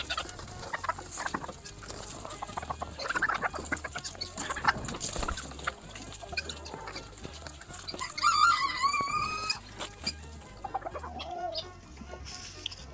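Chickens cluck and chatter close by in a busy, irregular stream in the morning, with one sharper, higher squawk partway through.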